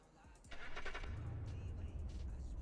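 A 4.5 liter V8 truck engine in BeamNG Drive cranks briefly and catches, then settles into a steady low idle rumble, close and fairly loud.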